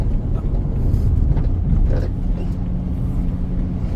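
Road and engine rumble from inside a 2006 BMW 325xi driving along, steady low droning with a slight shift in pitch as gears change, and someone talking over it.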